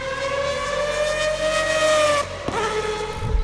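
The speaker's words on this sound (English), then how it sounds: "it was one of the defining sounds of one of the scariest cars Mazda ever built." A Mazda 767B race car with a peripheral-port rotary engine screams past at high revs, its sharp, siren-like tone sliding down in pitch before a brief shift, loud and alone.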